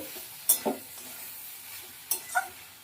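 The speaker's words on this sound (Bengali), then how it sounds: "এবার ভালো করে নাড়িয়ে চাড়িয়ে ভাজা ভাজা করে নেব" Pointed gourd frying in a pan is stirred with a utensil, two pairs of sharp scraping clacks against the metal standing out over a soft, low sizzle, close by.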